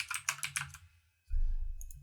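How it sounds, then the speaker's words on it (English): Rapid keystrokes on a computer keyboard as a password is typed in, a quick burst of close clicks that stops, followed by a low rumbling background hum and a couple of faint taps. "he's going to type in his password"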